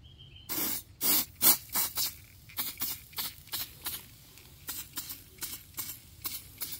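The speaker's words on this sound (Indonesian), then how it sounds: "Ini ada bagian kotor, kita semprot-semprot" Helmet foam cleaner sprays from an aerosol can onto a dirty motorcycle helmet in a quick series of short hissing bursts, loud and close, with brief pauses between them.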